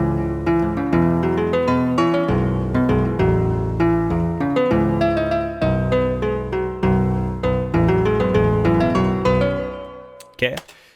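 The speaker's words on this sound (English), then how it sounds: "So right here, I just have just a loop that I've recorded." A recorded music loop made for sampling a beat plays at moderate volume, with rich sustained chords and a steady rhythmic pulse, then stops with a brief sharp thump near the end.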